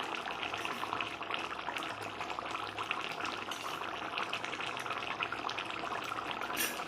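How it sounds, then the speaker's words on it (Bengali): Tamarind water from old soaked tamarind is poured into a pan of South Indian-style chicken kasha with curry leaves and coconut, making a steady, fairly close liquid splashing and sizzling that runs unbroken the whole time, with no voices. "এবারে দেব আমি একটু তেঁতুল গোলা জল"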